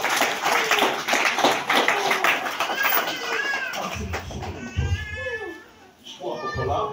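A church crowd breaks into clapping for Jesus, scattered hand claps mixed with loud excited voices and children's chatter close by.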